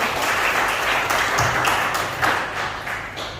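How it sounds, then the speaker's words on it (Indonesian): A church congregation at a Sunday worship service in Jombang, Indonesia, gives sustained, full-room applause, a dense wash of many hands clapping at steady loudness that fades slightly toward the end. "Boleh berikan tepuk tangan bagi Allah?"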